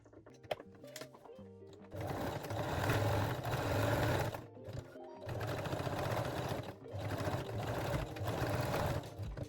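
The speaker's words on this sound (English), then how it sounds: "Now we can use the straight stitch." A sewing machine runs straight stitches on a cup-based bralette in two sustained bursts with a short break between, after a few clicks and handling noises at the start, with a steady, fairly loud motor hum.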